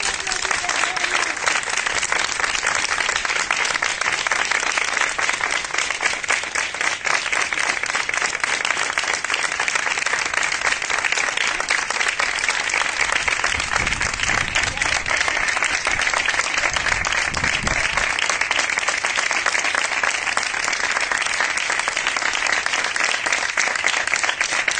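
Applause for medical professionals on duty in Huelva, a sustained, dense wash of clapping from many people that holds steady for about twenty-five seconds, with faint low rumbles briefly underneath.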